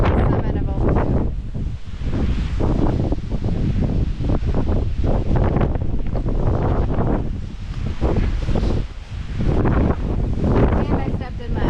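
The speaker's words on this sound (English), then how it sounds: "it's windy on the summit of Old Blue." Strong wind buffets the microphone on the summit of Old Blue, a mountain on the Appalachian Trail, as loud, roaring gusts that surge and ease continuously throughout.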